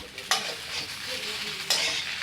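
Bati, dough balls made from coarse wheat flour, shallow-frying in a kadhai with a steady, close crackling sizzle that jumps louder twice as the pieces are stirred and turned.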